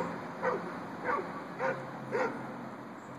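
A dog gives four evenly spaced, moderately loud barks over a steady background hiss, with no other sounds in between.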